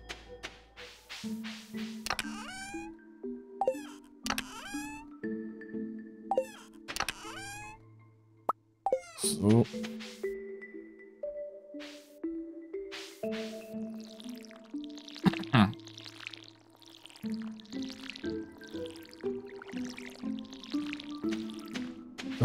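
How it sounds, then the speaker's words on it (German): Watering can sprinkling crops in the farming video game Stardew Valley, heard as a series of bright, plopping drip-and-splash effects over an upbeat tonal game music track, repeating every second or so without talk. "Die Gießkanne."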